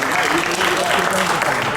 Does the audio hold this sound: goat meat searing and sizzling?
no